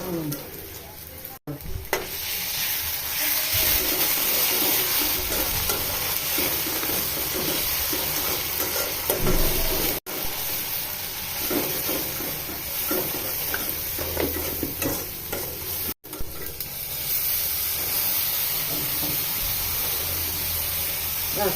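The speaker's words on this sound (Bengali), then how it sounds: "এই যে দেখো আম্মু যে লাউ রান্না করছে" Bottle gourd sizzles steadily in a hot pan while being stirred, with a dense, continuous frying hiss and occasional scraping stirs heard up close throughout.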